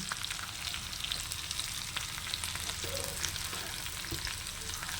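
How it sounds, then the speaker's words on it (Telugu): Sliced bananas fry in a hot pan with a dense, steady sizzle and crackle that stays close and even for the full few seconds, with no voices. "మళ్ళీ 5 నిమిషాల్లో అయిపోయే అరటి వేపుడు అండి"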